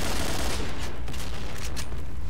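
Rapid automatic fire from an AUG assault rifle in the shooter game Point Blank, a loud, dense burst of shots running continuously through the whole stretch with no talk over it.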